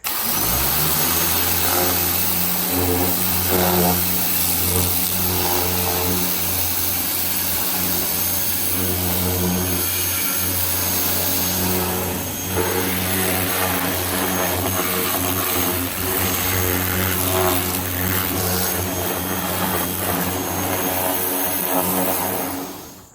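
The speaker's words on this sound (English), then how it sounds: "I already have the pressure washer set up because I just cleaned the one from the last video." A pressure washer sprays a Craftsman DYT 4000 lawn tractor, a loud steady droning whine with constant hissing spray that runs unbroken for over twenty seconds, close to the listener and with no talk.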